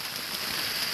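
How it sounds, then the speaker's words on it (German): Heavy rain drums steadily on a tent at a campsite during a motorcycle tour around the Baltic Sea, a dense, continuous close-up patter with no voices. "Wie man ja wahrscheinlich hört, regnet es wieder mächtig."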